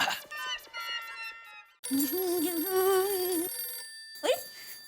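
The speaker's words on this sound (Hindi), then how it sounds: "फोन इसका होगा।" A phone rings with a bright electronic ringtone, loud and close, in several repeating bursts with short gaps between them.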